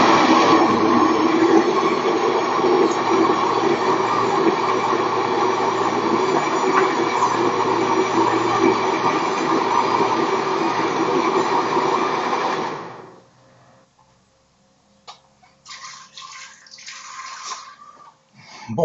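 A food blender grinds mushroom sauce ingredients in a loud, steady whir for about thirteen seconds, then switches off, leaving faint clatter and kitchen noises.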